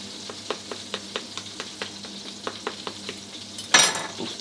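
Pork belly frying in a pan, cooked with fennel, gives a steady close sizzle with a regular series of soft scraping stirs, ending in a brief louder clatter.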